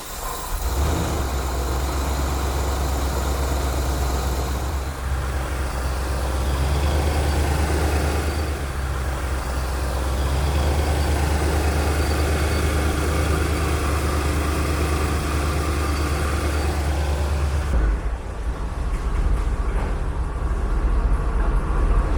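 A 1982 Chevrolet Corvette C3 Collector Edition with its V8 engine idling steadily, a loud, continuous low rumble that holds even throughout, with a slight shift in tone near the end.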